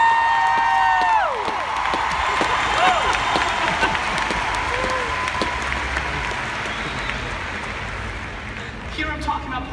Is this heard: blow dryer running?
no